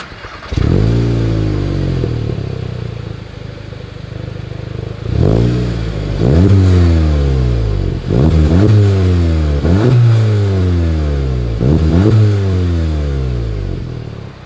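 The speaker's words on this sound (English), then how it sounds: "As always, here is that exhaust clip." A Volkswagen Golf GTI 8 engine revs repeatedly, each throttle blip rising into a roaring exhaust note then falling back, about six pulls in a row, close and loud from behind the car.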